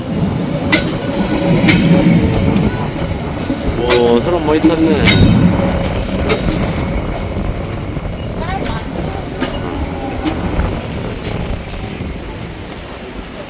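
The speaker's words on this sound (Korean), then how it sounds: "열차가 들어오고 있습니다." A train rumbles into a coastal station between Haeundae and Songjeong in Busan with rhythmic clacking and brief metallic squeals, fairly close and loud, while a person talks briefly over it.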